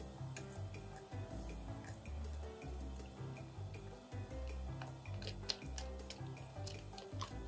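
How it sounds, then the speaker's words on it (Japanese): Pancake mix batter for protein dorayaki is stirred in a bowl, making soft, repeated wet clicks and squishes at a steady pace, close and fairly quiet. "ちょっとダマが残るぐらいまで混ぜていきます。"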